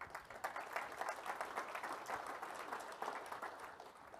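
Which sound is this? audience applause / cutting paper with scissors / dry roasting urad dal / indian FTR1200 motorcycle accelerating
audience applause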